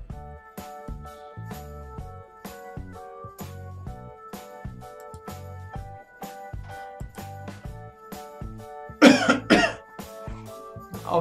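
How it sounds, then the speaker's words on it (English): A person with a cold coughs during a Football Manager 2020 Brighton career-mode session, a loud cluster of coughs near the end breaking over steady game music with tinkling notes. "every time I do cough, I apologise in advance."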